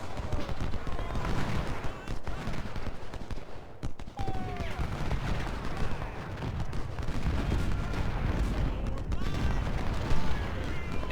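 Rifle fire from snipers in Ultimate General Civil War, a dense, continuous crackle of distant musketry and booms layered into a constant battle roar, with a voice talking over it.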